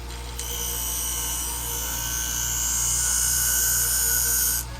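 A scissor blade ground against a diamond wheel on a Wolfe Twice As Sharp scissor sharpener, a steady close high-pitched grinding whine over a constant motor hum, lasting several seconds before cutting off.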